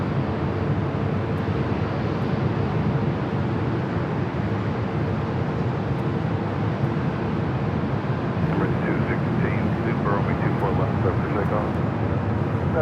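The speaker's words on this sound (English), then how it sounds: "That flight to Kona rolling down 24 left." A Kona-bound airliner rolls down runway 24 left at LAX for takeoff, a broad, steady engine roar heard from a distance that persists throughout, mixed with wind noise.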